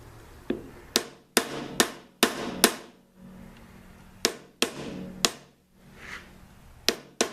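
Sharp, ringing hammer blows strike a Craftsman planer's knife assembly, about a dozen hits in uneven bursts with brief pauses, loud and close with no talking.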